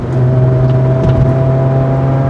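A Hyundai Tuscani Elisa's 2.7-litre Delta V6 engine drones and hums steadily up close, a low rumbling idle with a faint rise in revs.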